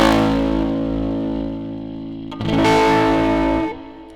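Axe FX 3 drive effect cranked to maximum on a guitar, a sustained harsh noisy distortion that swells louder midway before cutting off.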